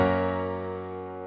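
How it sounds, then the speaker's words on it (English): The stock Steinway grand piano in Logic Pro played alone: a single rich chord struck once and left to ring, decaying slowly and evenly with no other instruments or voices. "Let me play the piano by itself."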